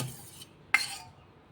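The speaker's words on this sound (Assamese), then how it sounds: "এতিয়া আলুখিনি চচপেনৰ পৰা উলিয়াই ৰখা হ'ব।" Boiled potatoes being taken out of a saucepan, a soft metallic scrape followed by one sharp clink of utensil against the pan, quiet and close.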